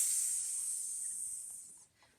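A voice makes a long, steady hissing 'sss' that imitates the sizzle of water poured on a campfire, lasting nearly two seconds and then trailing off.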